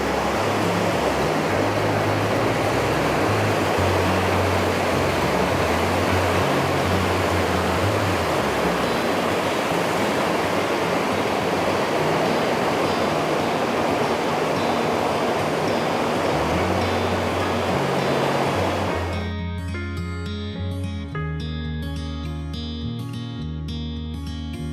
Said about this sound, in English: This creek right here will lead to Foster Falls